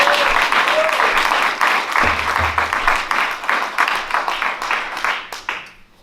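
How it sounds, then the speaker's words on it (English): An audience at a live MLK tribute jazz concert applauds drummer Gabriel Roxbury, a dense burst of clapping that gradually thins and fades out over several seconds. "Wonderful, wonderful round of applause"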